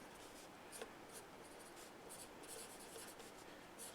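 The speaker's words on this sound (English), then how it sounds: "you'd probably take a like a 2B pencil, and when you're drawing it in graphite" A 2B graphite pencil drawing on paper: a steady, close scratchy scrape with short repeated strokes and brief lifts, quiet and alone without talk.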